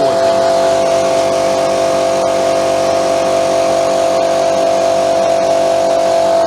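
An INTERTOOL PT-0004 air compressor runs with a loud, continuous, steady mechanical drone and hum, unbroken and close by, with no talk.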